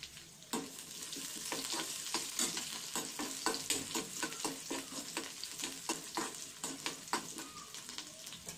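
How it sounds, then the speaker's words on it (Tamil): About ten cloves of finely chopped garlic sauté in a pan with curry leaves for egg gravy, a steady close sizzle broken by frequent spoon scrapes and taps. "அதையும் சேர்த்து நல்லா வதக்கிக்கலாம்."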